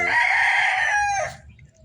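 A purebred Polespark Gray gamefowl rooster crows once, a loud, close, drawn-out call lasting over a second that fades at the end, with no talking.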